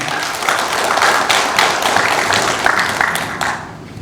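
Audience applause at a Gurye cable car promotion committee meeting in the Gurye Culture and Arts Center hall, dense steady clapping from many hands lasting about three and a half seconds before tapering off.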